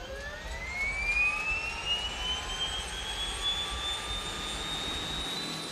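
A twin-engine aircraft's port engine spinning up, a loud rising whine that climbs steadily in pitch over a low rumbling roar, sustained and close, with no voices.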